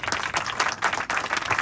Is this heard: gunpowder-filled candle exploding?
no